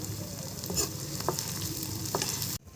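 Roasted eggplant for Marathi vangyache bharit, mixed with a crushed chili, garlic and ginger paste and peanuts, sizzles steadily in a pan while a spoon stirs and scrapes through it, close and continuous, with no speech.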